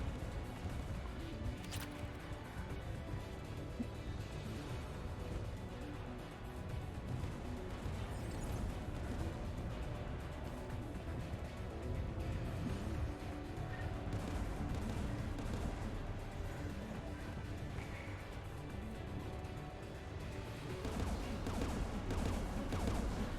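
Continuous heavy gunfire from the Mass Effect 3 video game, a long unbroken barrage of rapid shots and booming impacts layered over game ambience, steady and dense throughout without pause.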